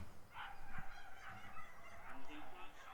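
Whippets at a lightweight male race bark and yelp in the starting area, producing honking, goose-like calls that come and go over a low murmur of crowd noise.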